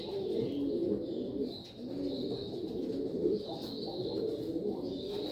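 Jacobin pigeons in a cage coo continuously in a low, throaty murmur, several birds overlapping at close range with a steady, busy rhythm.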